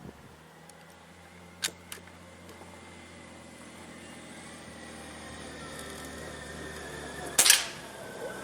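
A Beeman QB78 .22 air rifle fires once near the end, a single sharp, loud crack at a 10-meter target range, preceded by quiet outdoor ambience with a couple of faint clicks.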